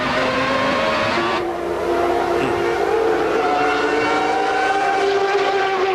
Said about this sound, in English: Hard to out-drag somebody when you have a Renault V10 and he has a Renault V10, but Damon Hill